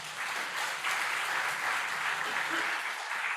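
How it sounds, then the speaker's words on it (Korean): A church congregation at a Korean Sunday worship service claps together, a full, even roar of many hands sustained throughout without a break. "박수 좀 쳐주세요."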